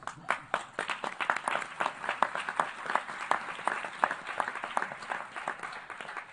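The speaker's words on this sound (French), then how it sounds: "notre modératrice que je vous demande d'applaudir" Audience at a ministerial water and sanitation dialogue session applauding the moderator, distinct individual claps forming a moderate, steady round of applause at mid distance.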